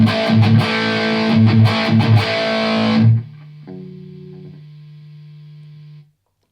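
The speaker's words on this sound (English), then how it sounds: "The Boss Blues Driver." An electric guitar through a Boss Blues Driver overdrive pedal plays gritty, overdriven chords and notes with a warm crunchy tone, then a final note rings out and fades into silence.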